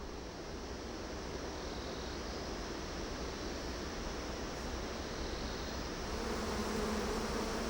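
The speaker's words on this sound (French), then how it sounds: "Des dizaines d'abeilles commencent à virevolter autour de lui." A swarm of dozens of bees hums steadily around a honey hunter standing in smoke from smouldering green foliage, a dense continuous buzz without a break and no voices.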